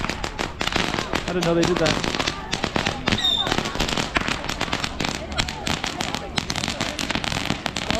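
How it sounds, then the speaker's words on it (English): Firecrackers and fireworks set off in Macau for Chinese New Year, a dense, continuous volley of sharp crackling pops and bursts lasting throughout, with a person talking over the barrage. "that's how they do fireworks in Macau"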